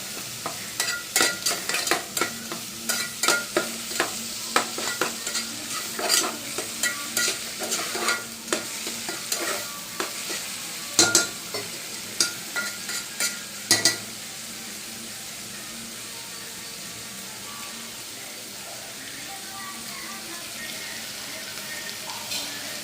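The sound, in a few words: frying and stirring egg curry ingredients in a pan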